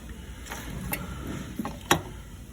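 A recoil starter rope being pulled through by hand during a repair, giving a few light mechanical ratcheting clicks and one sharper snap near the end, close and fairly quiet.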